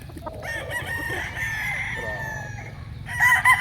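A local banded gamefowl rooster crows close and loud, one long cock-a-doodle-doo followed by a brief second call at the end.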